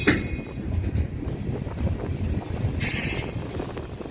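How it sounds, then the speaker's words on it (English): Low rumbling of a long freight train pulled by five locomotives rolling past in Old Town Spring, Texas, with clattering wheels and a brief high squeal, heard from nearby outdoors with some wind. "We'll just film the sound of the train here."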